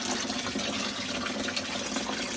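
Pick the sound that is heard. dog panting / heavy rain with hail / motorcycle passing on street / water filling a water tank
water filling a water tank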